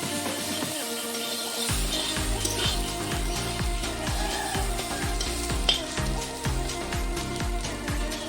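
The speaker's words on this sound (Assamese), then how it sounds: "ভালকৈ লাৰি থাকিব লাগে" Bitter gourd frying in a hot pan while being stirred, a steady loud sizzle with a regular rhythm of scraping stirs repeating through the whole stretch, close up with no talking.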